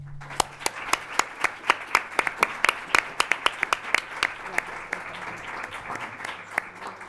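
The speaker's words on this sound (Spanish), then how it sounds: "Vamos a recibirlo con un fuerte, fuerte, fuerte aplauso." An audience welcoming a guest at a literary interview event claps in a loose, sparse rhythm of distinct, crisp individual claps, moderately loud in a hall, with a faint low hum beneath at the start.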